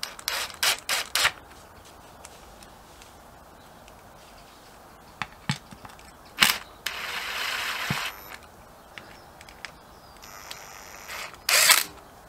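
A ratchet torquing bolts on a Harley-Davidson Sportster XL1200R motorcycle, heard as quiet, short bursts of rapid mechanical clicks separated by pauses.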